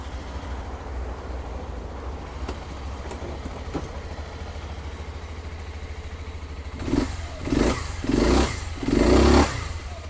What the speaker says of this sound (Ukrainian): Відкликається двигун на ручку газу моментально.